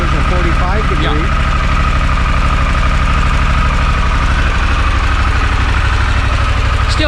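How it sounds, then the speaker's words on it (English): A 2021 Harley-Davidson Pan America's 60-degree V-twin idles with a steady, loud, throbbing exhaust pulse close by, running evenly throughout while someone talks over it. "different exhaust sound, because this is a 60-degree V-twin as compared to our regular pushrod motors of 45 degree."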